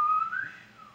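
A person whistles a short, bright rising-then-falling note of about a second, imitating the sound of a Melody Pop candy whistle, close and alone.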